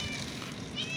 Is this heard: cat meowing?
yes